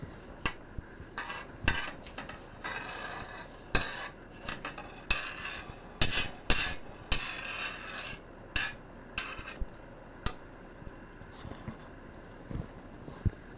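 Black bean burger mixture being worked in a bowl, with irregular scraping and sharp clinks of a utensil against the dish, close and alone over several seconds.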